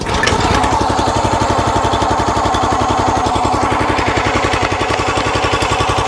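A small engine on a wood-splitting setup idles and warms up with a steady, loud, rapid chugging throb after a brief start at the beginning, running alone without voices.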